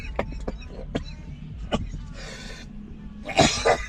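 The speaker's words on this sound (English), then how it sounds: "There's that cough I was talking about." A person coughs several times in short bursts inside a moving car, with road noise rumbling underneath and a throaty cough or clearing near the end.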